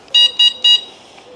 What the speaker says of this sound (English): They've got a buzzer.